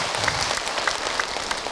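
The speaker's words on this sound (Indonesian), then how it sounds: "Tepuk tangan untuk kita semua." Audience applause at an Islamic preaching gathering, a steady dense wash of many hands clapping that holds at an even level for under two seconds, with no voices over it.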